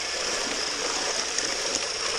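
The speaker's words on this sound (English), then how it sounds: "Just get a little bit of water from there." Steady broadband rush of water at a creek while sluicing for gold, as a bucket is filled by scooping from the flow; continuous, close and fairly loud with no talk.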